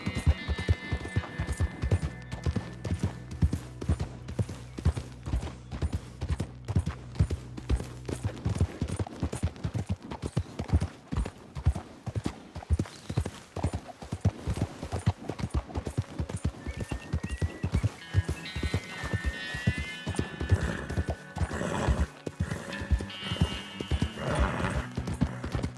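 Horse hooves clip-clop steadily at a trotting rhythm in Red Dead Redemption 2, close and clear, with a whinny and bursts of distant gunfire mixed in.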